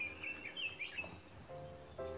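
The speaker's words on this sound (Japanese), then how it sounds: "非常に静かな野鳥の鳴き声だけが聞こえるような環境" Wild birds call in quiet woods in Kita-Harima, Hyogo: thin high chirps and short whistled phrases, clear and close, with some lower tonal notes later and no talking.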